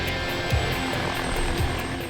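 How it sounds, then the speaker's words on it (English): A helicopter hovering and rotating in place, its rotor producing a rhythmic, regular blade thump roughly every second over a continuous loud engine whine, close and alone. "Pilot Rick lifts the chopper into a hover, then spins her around"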